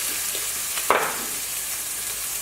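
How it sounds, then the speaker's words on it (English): Onions hiss and sizzle steadily in a hot frying pan, with one brief louder crackle of stirring partway through, heard close up with no talking. "Heat up your pan, chuck in your onions."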